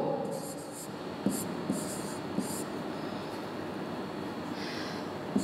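Pen or pencil scratching out a series of numbers on paper, a steady soft scraping with a few light taps, close and faint against a quiet room hum.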